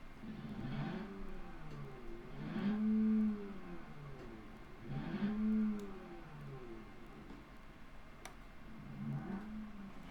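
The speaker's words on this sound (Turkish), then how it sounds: "Size arabanın sesini göstereyim." A 2016 Skoda Superb Laurin & Klement engine idles nearby and revs up and down in roughly three slow swells, humming steadily between them.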